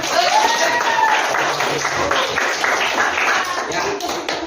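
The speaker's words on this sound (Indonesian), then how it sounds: "Coba tepuk tangan dulu untuk semua ya." A classroom of students clapping together after an algebra lesson, a loud dense burst of hand claps that stays steady throughout with voices mixed in.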